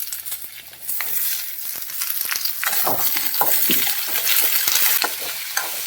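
Onions and curry leaves fry loudly in hot oil in a pan, for an ivy gourd stir-fry, with a dense crackling sizzle, bursts of spatter and repeated scraping stirs building over several seconds.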